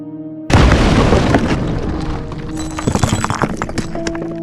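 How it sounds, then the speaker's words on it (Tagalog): A sudden heavy blast erupts as an explosion bursts open a house door, a loud booming onset after brief quiet, followed by a rumbling rattle and scattered crackling debris that gradually fades, with no voices. "Biglang may sumabog sa pintuan ng bahay."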